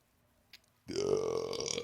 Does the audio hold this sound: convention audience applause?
no